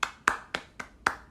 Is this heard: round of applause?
yes